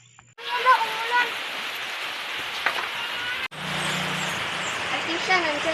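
Steady, dense rainfall hisses continuously and fairly loudly outdoors, breaking off for an instant before resuming, with people talking over it.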